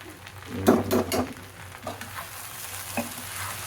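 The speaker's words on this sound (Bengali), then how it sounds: "এখানে ভেন্ডি ভাজি বসাইছি" Okra sizzles in a pan as a bhaji in a home kitchen, a few close stirring scrapes near the start, then a softer steady frying hiss with an occasional clink, no talking.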